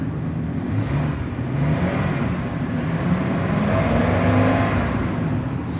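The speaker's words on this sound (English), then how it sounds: "Smooth running truck" A 2002 Ford Excursion truck engine runs at a steady idle, a continuous low rumble with a slight rise in loudness, close to the microphone and without speech.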